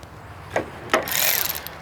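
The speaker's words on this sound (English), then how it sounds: "Go ahead and tighten them down." A hand ratchet tightens the bolts on the EGR valve of an S197 Ford Mustang. It gives a few close clicks, then a brief rising mechanical whir, with no talk.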